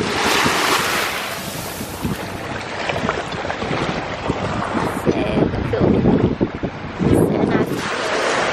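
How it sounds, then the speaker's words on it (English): Ocean waves wash onto a clear-water Bahamas beach, a loud steady surf roar with heavy wind buffeting the microphone and occasional louder surges. "We're walking out into the ocean."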